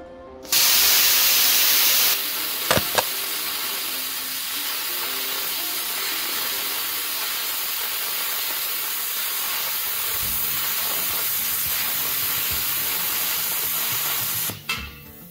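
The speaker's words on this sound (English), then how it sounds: "I'm not an amazing whiz with plasma cutting by any stretch of the imagination" An Xcel-Arc Razorcut 45 plasma cutter slices 6 mm steel with a loud burst of air, then a long, steady hiss and sizzle that lasts over ten seconds before cutting off, close and without speech.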